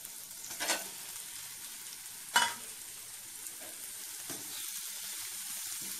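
Chicken pieces fry in a pan with onion, ginger and garlic, giving a soft, steady sizzle with a couple of sharp clinks from stirring.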